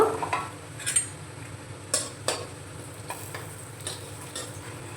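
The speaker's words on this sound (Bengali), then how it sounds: "ওই তেলের মধ্যে দিয়ে দেব পেঁয়াজ কুচোনো পেঁয়াজটা হালকা ভেজে নেব" Chopped onion fries lightly in hot oil for a navratan pulao, a steady close sizzle broken by sharp clinks and scrapes of a utensil stirring the pan, with no voices.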